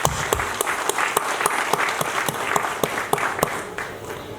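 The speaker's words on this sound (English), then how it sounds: "So let us have a big clapping for 2 shining stars." Audience at a National Insurance official program applauds two honoured guests: a dense, moderately loud spread of clapping with a few sharp, prominent claps standing out, sustained throughout.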